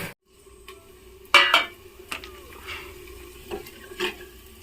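Besan and buttermilk kadhi mixture stirred in a pot in a home kitchen: a few soft scrapes and metallic clinks of a spoon against the pot, with one sharper clatter, in an otherwise quiet room.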